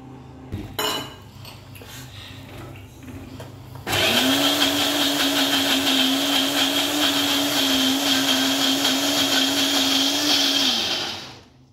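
An electric mixer grinder whirring through green coriander chutney with salt in a tightly closed jar. A few clinks come first, then a loud, steady motor drone starts suddenly and runs for about seven seconds before winding down.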